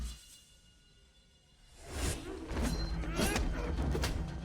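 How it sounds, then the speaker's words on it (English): A quick whoosh of a knife cutting the air, followed by a few more swishes and a soft thud, fairly close. "a knife can make that noise swiping through air"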